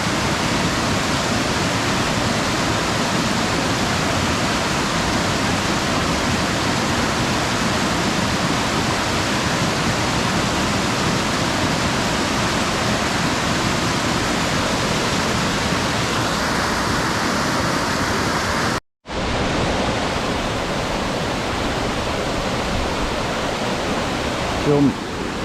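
Maiden's Bath Falls on Mt Buffalo in Victoria's high country roars as a loud, continuous wash of falling water, with one abrupt brief dropout partway through before the roar resumes.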